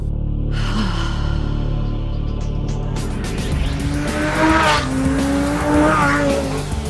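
A Lamborghini Gallardo SE's V10 engine is driven at full throttle, a loud, sustained roar whose pitch climbs and falls through gear changes, with a brief tire squeal, with no one talking.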